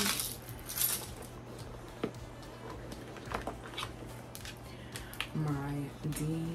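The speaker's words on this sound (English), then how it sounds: "My keys." A bunch of keys jingles and clinks while being handled and rummaged through a bag, producing light metallic chinks over a soft background hum.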